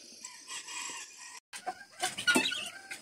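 Backyard hens and a rooster on a rural smallholding cluck and call in overlapping bursts at close range, with a brief pause midway before louder, busier clucking resumes.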